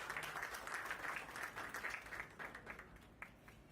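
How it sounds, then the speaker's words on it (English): An audience applauds panelists at an education event in Jammu, a dense, fairly distant wash of clapping that keeps going and slowly thins out toward the end. "Can you please have a huge round of applause for our panelists?"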